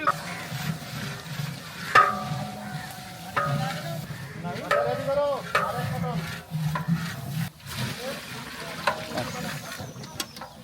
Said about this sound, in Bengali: এবার পেঁয়াজটাকে আমরা একটু ভেজে নিব।